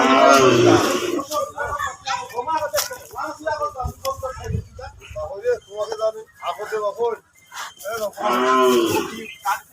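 Cattle bought from villages for an Eid al-Fitr sale low and moo several times at close range, the calls overlapping with people talking nearby.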